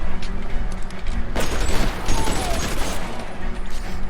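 A dense fusillade of gunshots in the video game L.A. Noire, a loud chaotic crackle of overlapping shots and booms that swells partway through and continues to the end.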